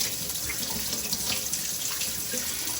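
A tap runs water steadily into a sink, a continuous hiss and splash heard up close with no one talking.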